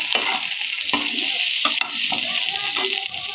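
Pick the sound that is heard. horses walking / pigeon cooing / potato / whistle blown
potato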